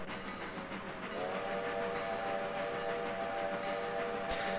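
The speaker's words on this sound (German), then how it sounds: "Das sind die ganze Zeit irgendwelche blöden Bahnübergänge, deswegen pfeift er so viel." Train whistle in the video game Railroader, blown at level crossings: a long, steady, sustained tone rises in over the continuous rumble of the rolling train and holds to the end.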